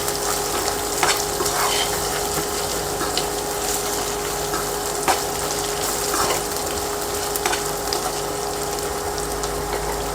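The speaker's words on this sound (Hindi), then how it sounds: "एक मिनट के लिए इसको अच्छे से रोस्ट कर लेंगे, प्याज को, अदरक लहसुन को और हरी मिर्ची को।" Chopped onion, ginger, garlic and green chili roast in a hot pan, a steady close sizzle with occasional stirring clicks running throughout.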